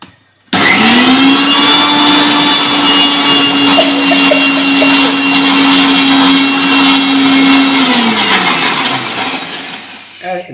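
A kitchen mixer grinder whirs steadily, grinding Diwali medicine ingredients with water, with a loud constant motor whine that runs for several seconds before winding down.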